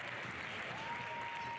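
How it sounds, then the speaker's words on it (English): Crowd noise at a boys high school basketball game as the home side goes up 11-0, a dense, steady roar heard at a distance and fairly faint. "now they're up 11-0, and the crowd is fired up"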